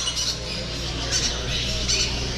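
Blue and gold macaws at a bird expo let out repeated harsh squawks, three loud bursts over the steady hubbub of a crowded hall.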